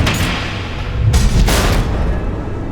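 A deep, loud missile explosion booms twice in the Batman: The Enemy Within video game, with a broad low rumble that swells and decays across a few seconds, no talk over it.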